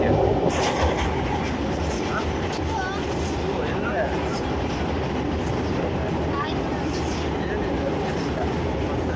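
Vande Bharat train running on the Bengaluru to Mantralaya route, heard close to the open door as a loud continuous roar and rattle with faint clicks and squeaks.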